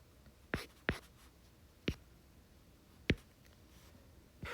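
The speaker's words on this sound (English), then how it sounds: "So I'm going to write" Writing on a board during a chemistry lesson: five sharp, separate marker or chalk strokes tap and scrape at uneven intervals, close and fairly crisp against a quiet room with no talking.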